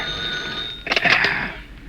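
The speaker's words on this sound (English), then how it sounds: "the shrilling clamor of the phone is stilled as a hand reaches out and picks up the instrument" An old-fashioned telephone bell rings in a short, loud burst of rapid metallic trills that stops abruptly, over a faint background whine, with no talking.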